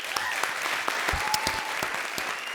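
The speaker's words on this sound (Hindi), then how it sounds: "उसके लिए जोरदार तालियां हो जाएं।" A studio audience at a comedy show breaks into steady applause, a dense wash of clapping with some sharper individual claps standing out, heard on its own at a moderate level throughout.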